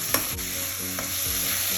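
Tomato sautéing in a pan for vegetable biryani makes a steady close sizzle, with a few light scraping stirs of a utensil against the pan.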